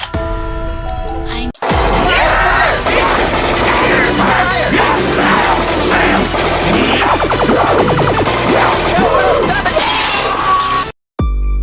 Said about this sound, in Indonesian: aku akan menggunakan pistol saja untuk mengalahkan monster ini